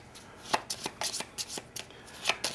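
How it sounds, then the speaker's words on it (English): Small game cards shuffled by hand during a solo tabletop game, a close rapid series of soft riffling flutters and slaps with no talking. "and then you shuffle this up"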